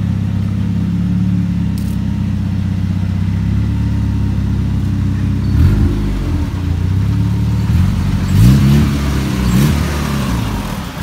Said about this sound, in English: Got my pops driving the car.